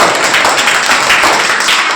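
A group applauds a correct answer at a quiz event: loud, dense clapping from many hands, close and continuous for the whole two seconds.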